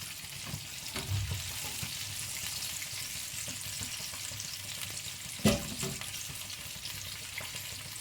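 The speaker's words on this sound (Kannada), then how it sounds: "ಸೊ ಈಗ ಮತ್ತೆ ನಾವು ಆಯಿಲಲ್ಲಿ ಬಿಡಬೇಕು." Chicken pieces deep-fry in oil for homemade KFC-style chicken, giving a continuous soft, even bubbling sizzle with one brief sharper clatter midway, fairly quiet and without talk.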